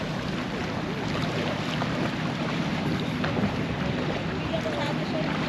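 Wind buffets the microphone on the beach at Boracay, a steady, loud roar with no break over the whole stretch, while light surf and distant activity sit faintly underneath.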